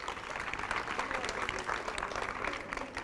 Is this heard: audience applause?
yes